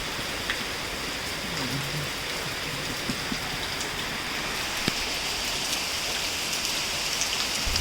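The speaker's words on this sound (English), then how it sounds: "I don't think today the rain is so heavy also" Steady rain falls on a surface outdoors, a dense, even hiss with scattered drop ticks throughout, moderately loud and continuous with no voices.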